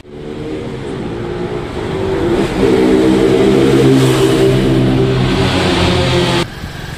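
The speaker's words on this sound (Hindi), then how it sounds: "गाड़ी जब भागती है तो कैसा साउंड आता है" Modified TVS Sport motorcycle with an altered air filter revving hard and accelerating inside a tunnel, a loud, steady engine roar that rises and holds before dropping off abruptly near the end.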